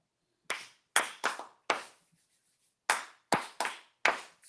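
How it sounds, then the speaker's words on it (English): A person claps alone in an uneven pattern of eight sharp, close hand claps, grouped in pairs and singles with a pause in the middle and no talking. "That's a naughty clap."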